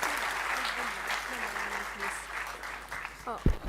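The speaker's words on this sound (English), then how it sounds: "We'll just give them a big round of applause for doing such a lovely thing" An audience at a cultural evening claps for performers, moderate steady applause with faint voices and a brief sharp thump near the end.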